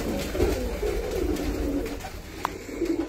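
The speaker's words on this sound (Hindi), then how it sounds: "ये देखें ये कबूतर" Pigeons at a rooftop loft coo in soft, repeated low rounded calls that run steadily throughout, close by over a light background hum.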